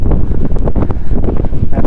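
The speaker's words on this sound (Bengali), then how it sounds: "এখানে প্রচণ্ড জোরে হাওয়া দিচ্ছে, প্রচণ্ড জোরে" Very strong wind batters the microphone in Marpha village, a loud, continuous low roar with gusty buffeting and no other sounds.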